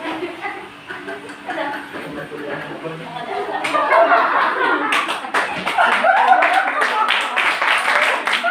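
Classroom clapping during a health education pre-demo teaching session on intentional injuries, starting as murmur and chatter and building into dense, loud rapid claps over the second half, with voices mixed in.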